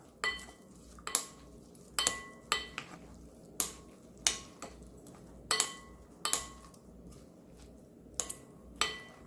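Seasoned steamed eggplant is tossed in a bowl, giving a regular series of sharp clinks and knocks roughly once a second over a quiet background, close and distinct, with no talk.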